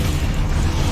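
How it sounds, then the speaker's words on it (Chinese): A Hogwarts Legacy video game explosion sounds as a dense, loud, sustained roar of crackling blast noise with no clear start or tail. "爆炸！"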